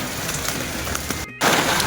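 Rain falls on the hill pilgrimage path up Panera hill, a steady close hiss that drops out briefly for a moment and then returns a bit louder.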